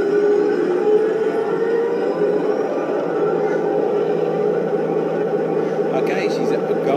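Gas turbine engine of an M1 Abrams tank starting up, a steady loud whine and roar with a constant rumbling drone held throughout without a break.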